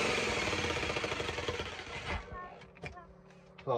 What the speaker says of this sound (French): ça va être le découpage du lambris déjà. À la scie sauteuse mon copain.